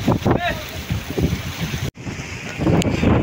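Strong wind buffeting the microphone outdoors near water, a loud continuous rumble with gusts that briefly cut out, while a person talks over it.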